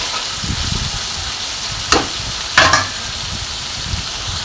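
Chicken pieces frying in hot oil in a home kitchen, a loud, even sizzling hiss throughout, with two brief bursts of stirring or spattering.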